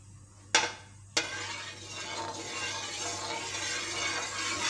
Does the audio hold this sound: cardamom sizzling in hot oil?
yes